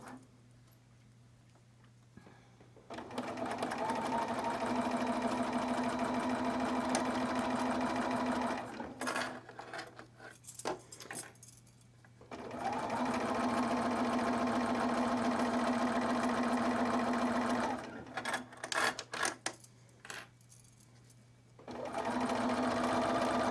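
A sewing machine with a zipper foot stitches a zipper bag in three long, steady runs of fast, even mechanical whirring and ticking. Brief pauses with soft clicks and handling noises separate the runs, all close up.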